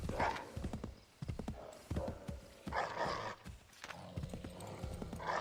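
Horse hooves clip-clop in a steady uneven rhythm in Assassin's Creed 3, close and moderately loud, with occasional faint animal sounds in the background.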